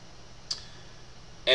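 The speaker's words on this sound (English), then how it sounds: "I'm going to click Launch Draft here." A single soft mouse click sounds once on a computer in a quiet room, followed by a sharper, louder click.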